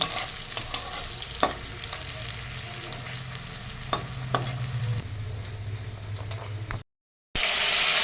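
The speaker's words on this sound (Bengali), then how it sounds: "পেঁয়াজগুলো একটু লাল করে ভেজে নেব।" Onions frying with bay leaves and cumin in a pan make a steady close sizzle with occasional stirring scrapes, cutting to silence briefly near the end before resuming.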